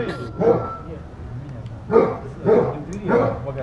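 A dog barks in several loud, separate bursts close by, with short gaps between them, at a rural dacha pond.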